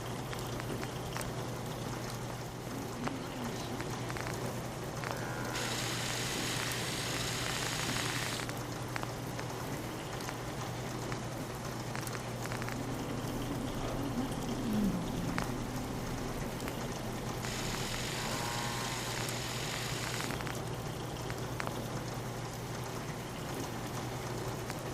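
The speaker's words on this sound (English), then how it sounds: "Hope this rain lets up soon." Rain falls in the video game Fallout 4, a continuous even hiss over a constant low hum, with brighter gusty swells of downpour rising and falling twice.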